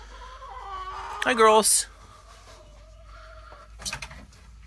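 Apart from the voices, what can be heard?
chickens clucking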